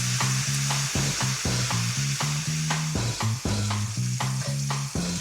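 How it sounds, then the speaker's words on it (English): Bacon fries in a pan, rendering its fat with a dense, even sizzle that runs throughout beneath louder rhythmic background music. "I'm going to render this bacon, get some of that fat out of it."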